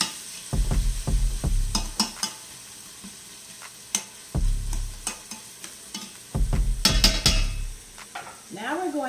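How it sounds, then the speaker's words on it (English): Repeated scraping and clinking of a spoon stirring chicken and rice soup in a pot, in short bursts with pauses, over a soft sizzle. "we just want to stir that around nicely"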